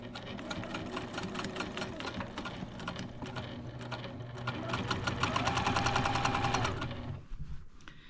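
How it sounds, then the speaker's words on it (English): A sewing machine stitches the pieces of a quilt top together with a steady, rapid mechanical chatter that picks up speed near the end, then stops abruptly. "let's take this over to the machine and finish sewing our top together"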